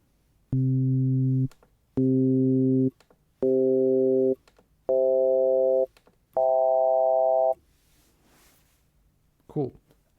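A Casio VZ-1 synthesizer's ring mode, recreated in Pure Data, sounds five sustained buzzy tones in steady succession, each about a second long and slightly higher than the last, then a short noisy burst after a pause.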